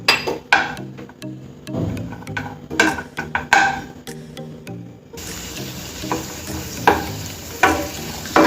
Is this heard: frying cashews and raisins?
yes